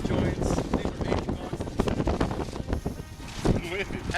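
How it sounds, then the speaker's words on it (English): Strong wind buffeting outdoors at an outlet mall, roaring and gusting continuously against the microphone in uneven surges, with people talking underneath. "it's windy as hell out here"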